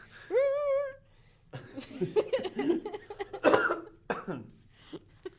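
A burst of harsh coughs follows a brief rising voiced sound, with a few sharper coughs and throat noises trailing off close by.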